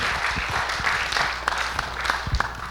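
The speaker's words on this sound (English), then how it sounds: "A huge round of applause for Barry, who's such a wonderful friend of the club's." A small club audience claps for a guest presenter, Barry Kenyon, with a modest, uneven patter of hands. Individual sharp claps stand out close by over a looser background of clapping.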